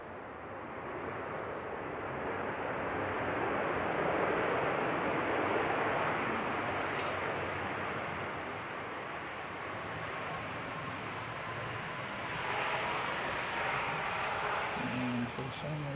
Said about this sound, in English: Jetstar arriving on aforementioned Crosswind runway.